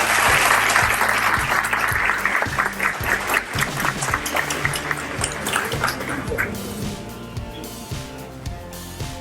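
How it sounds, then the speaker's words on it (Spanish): A seminar audience gives a strong round of applause to welcome a senior KPMG manager to the stage. Dense, loud clapping fills the first six seconds, then thins and fades over a low, steady musical backing. "Vamos a recibirlo con un fuerte aplauso"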